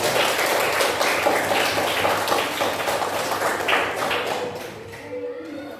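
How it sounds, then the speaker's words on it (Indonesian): Students clap together in a classroom, a dense patter of applause that holds steady for several seconds and then thins out. A teacher speaks over the clapping. "Yang itu tepuk tangan untuk kalian semua."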